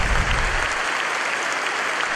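A church congregation in Santiago, Chile applauds during a Bible study gathering, a dense, steady wash of clapping from many hands filling the space.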